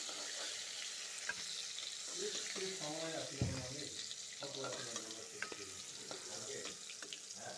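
Ash gourd slices frying in a pan, a steady sizzle under a voice speaking quietly, with occasional utensil knocks.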